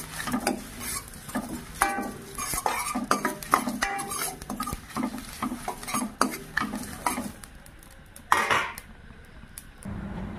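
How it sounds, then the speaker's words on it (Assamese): Spices dry roasting in a pan while being stirred, at home while preparing mango pickle: steady scraping and clinking of a spoon against the metal pan with light sizzle, close and continuous, with a brief louder clatter near the end. "এতিয়া মই মছলাখিনি ভাজি পিচি লৈ লওঁ"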